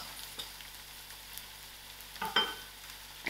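Curry leaves, ginger and garlic frying in hot oil in a pan, a steady close sizzle with a brief louder crackle near the end.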